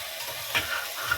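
Carrots being stirred with sugar inside a pressure cooker, a soft continuous scraping and faint sizzle with light clinks of the spoon against the pot, close and steady with no talking.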